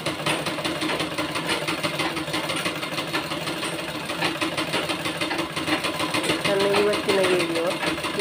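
A sewing machine stitches fabric with a steady, rapid mechanical chatter up close while someone talks over it throughout.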